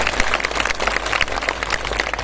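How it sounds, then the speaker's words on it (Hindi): A temple gathering gives dense, steady crowd applause to welcome a guru who has come from Vrindavan. The clapping is continuous and fairly loud throughout. "एक बार सब लोग ताली बजा के उनका स्वागत"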